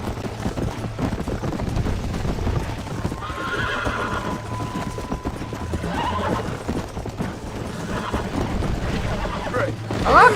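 Horse in the Red Dead Redemption video game gallops with steady clip-clop hoofbeats and gives a whinny partway through, loud and close amid game ambience and effects.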